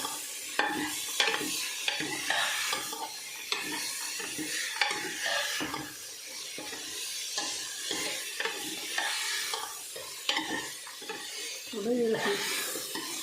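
Green peas frying and being stirred in a pan for salted rice pulao with paneer, with a steady sizzle and repeated scraping stir strokes running throughout, close and moderately loud.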